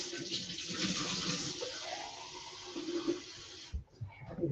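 Water running steadily from a kitchen tap for several seconds, a broad rushing hiss that stops abruptly near the end, followed by a few faint clunks and handling noises.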